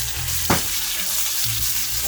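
Garlic, ginger paste and urad dal being sautéed in a pan for dal makhani: a dense, continuous close sizzle with one brief scrape or clunk of stirring, no voices.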